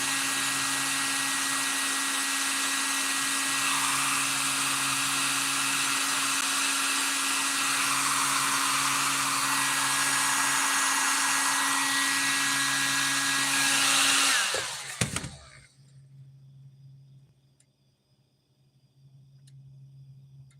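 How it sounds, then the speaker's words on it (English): A heat gun blows steadily at close range while warming epoxy and Kydex, a loud continuous hot-air roar with a faint hum beneath, cutting off abruptly near the end and leaving near silence. "Got a heat gun here. apply a little heat to this epoxy, or to this Kydex"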